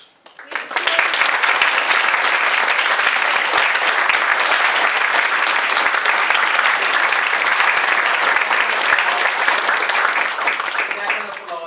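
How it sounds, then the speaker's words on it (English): A crowd at a Model UN environmental summit bursts into loud, sustained applause, dense clapping that swells quickly and holds steady for about ten seconds before easing off. "join me to give a big hand of applause Judith, Micheal, and Cynthia"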